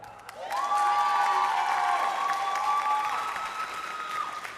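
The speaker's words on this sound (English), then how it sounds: "Gentle clapping. We want to encourage her." Graduation audience clapping, a full sustained round of applause with some cheering that swells and slowly eases, alongside a tonal hum in the hall.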